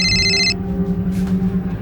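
A home telephone rings late at night: one short, bright electronic ring burst that stops abruptly, followed by a low steady room hum. No one speaks.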